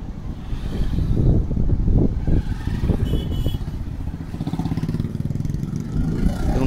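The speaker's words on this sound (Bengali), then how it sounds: "দেখুন গাড়িগুলো একটা রাস্তায় নেমে যাচ্ছে" Cars and motorbikes drive along a road beside a canal in Kolkata, heading toward Bansdroni; a steady, close engine rumble with vehicles passing and revving, no talk.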